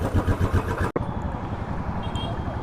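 A Royal Enfield Classic motorcycle, running on ethanol-blended fuel, revs with a loud low rumble, cuts out sharply for a moment, then settles into a steady thumping idle close by.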